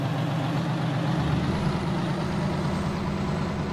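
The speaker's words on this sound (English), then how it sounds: "that Detroit motor is singing as we're trying to get out of here" A Detroit diesel engine in an American Truck Simulator rig pulling an articulated log trailer drones loud and steady at low revs, with a rumble that holds throughout.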